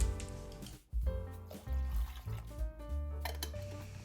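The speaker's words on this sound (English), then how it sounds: "The washed quinoa is going to be added to a pot with 2 cups of water." Water and washed quinoa go into a pot, with a faint pouring trickle and small clinks against the metal. The sounds are close and quiet, with no talking.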